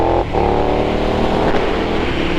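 A KTM Super Duke motorcycle with a Pipewerx GP exhaust, baffle removed, revs loudly and close up, its engine note steady and harsh with a brief dip early on and no talking.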